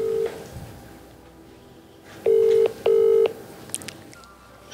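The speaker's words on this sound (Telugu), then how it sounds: "సరే చూద్దాం, ఫోన్ చేద్దాం." A telephone keypad sounds dialing tones for a call: a brief tone at the start, then two loud, sustained tones close together, with quiet room sound between.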